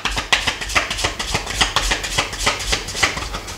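A deck of oracle cards is cut and shuffled by hand, giving soft, rapid flicks and taps in an uneven rhythm, close and moderately loud, with no talking.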